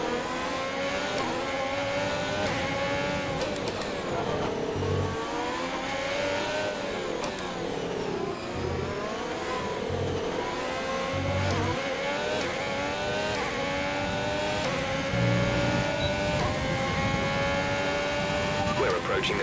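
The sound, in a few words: F1 race car engine revving, from video game F1 2020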